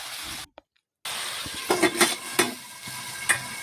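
Food is stirred and mixed in a pan after water is added to the spices, with a brief silent gap followed by soft sizzling and several distinct scraping, knocking strokes of the spoon against the pan.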